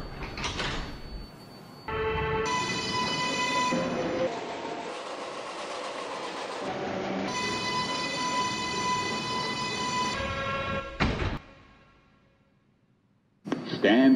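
A New York subway 4 express train bound for Bowling Green sits at a station platform, with a loud rumble, a brief quieter gap near the end, then the noise picking up again. An automated announcement plays over it.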